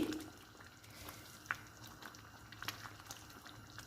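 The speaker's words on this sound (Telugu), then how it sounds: "గోంగూరని ఐదు నిమిషాలు ఉడికించుకోవాలండి" Gongura leaves simmer in a pot for an egg curry, with soft continuous bubbling and a few small pops and ticks, faint and close, without speech.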